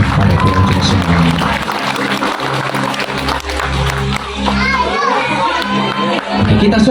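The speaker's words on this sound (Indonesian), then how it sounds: "Oke, kita suraki Rani yuk." Zoo visitors at Maharani Zoo Lamongan cheer and clap for an elephant's ball act, a loud, dense crowd roar with children shouting, sustained throughout with voices mixed in.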